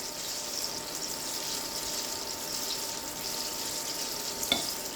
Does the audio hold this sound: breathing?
no